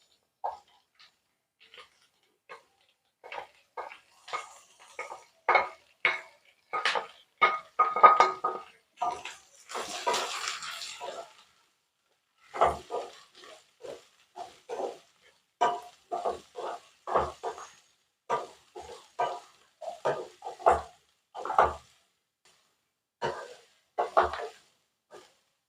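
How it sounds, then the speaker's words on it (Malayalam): Chopped onions tumbling into a pan and stirred with a utensil while sautéing for a squid roast, giving irregular clinks and scrapes of spoon on metal in short bursts, fairly quiet, with no talking. "ഇതിലേക്ക് നമുക്ക് അരിഞ്ഞു വെച്ചിരിക്കുന്ന സവാള ഇട്ട് നന്നായിട്ടൊന്ന് വഴറ്റിയെടുക്കാം."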